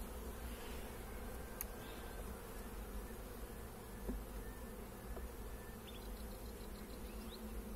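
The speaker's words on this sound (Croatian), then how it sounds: "Ovo je jedna slabija pčelnja zajednica" An opened hive holding a weak honeybee colony gives off a soft, steady buzz of many bees, with a few individual insects whining past now and then. No voices are heard.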